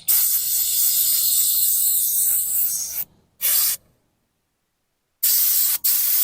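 Airbrush spraying pink paint, a steady airy hiss in bursts: a long spray, a brief cut-off, a short burst, a pause of silence, then another spray with a quick break, close and loud.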